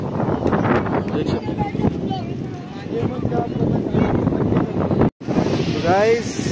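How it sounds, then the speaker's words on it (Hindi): Cold wind gusts at a beach in Goa, buffeting the microphone with rough low rushes while people talk throughout; a brief dropout breaks the sound near the end. "ठंडी हवा चल रही है"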